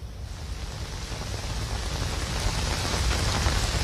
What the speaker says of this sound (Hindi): देखिए काफी तेज बारिश हो रही है